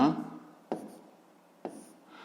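A pen writes on paper in a few short, crisp strokes with brief gaps between them, close and fairly quiet, as a voice speaks at the start.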